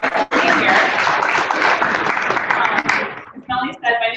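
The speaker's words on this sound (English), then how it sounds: "give yourselves a round of applause for being here" A packed training-room audience applauds for about three seconds, dense and steady, before a speaker's voice takes over at the end.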